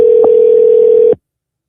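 Telephone line while dialing a number for callbacks: a loud, steady single electronic tone holds for about a second, with a brief click early on, then cuts off abruptly into silence.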